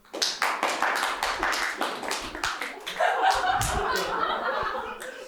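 Audience at a Ukrainian stand-up comedy show claps in a steady burst, mixed with laughter and chuckles, the applause swelling a little toward the end.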